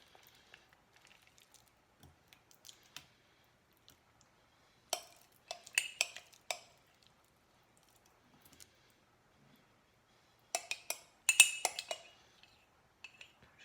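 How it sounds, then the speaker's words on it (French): Whisking cake batter in a bowl to smooth out lumps, with quiet clinks and taps of a utensil against the bowl, coming in two short bursts separated by near silence. "je mélange vraiment bien pour ne pas avoir de grumeaux"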